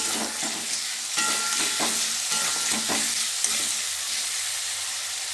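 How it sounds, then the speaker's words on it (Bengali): Potatoes frying with spices, including Kashmiri chili powder, for a cabbage curry with fish head, a steady sizzle under repeated close scraping stirs, with no voices. "এবার আলুর সঙ্গে মশলাগুলো ভালো করে কষিয়ে নেব"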